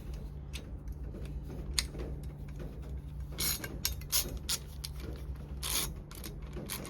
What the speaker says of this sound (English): This thing also ratchets.